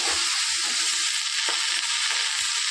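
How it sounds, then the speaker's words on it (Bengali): Malabar spinach, pumpkin and jackfruit hit hot oil with fried onion and garlic, giving a steady loud hiss and sizzle with faint soft scrapes underneath. "এবার দেবো এই যে পুঁই শাক, কুমড়ো, কাঁঠাল, আর ঢাকা চাপা দিয়ে"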